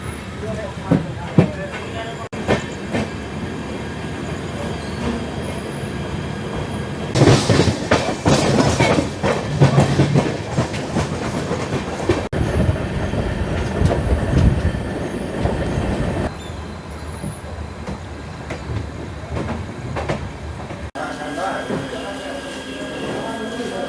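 The Uttarbanga Express rolls along with rhythmic clickety-clack and rumbling wheels, heard from on board at close range, with louder rattling stretches and squealing, while a voice talks intermittently.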